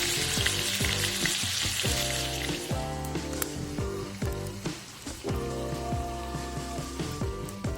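Pork belly sears loudly in a hot pan before it is cooked in beer, giving a dense, steady sizzle and crackle with scattered pops and spitting close by, without talk.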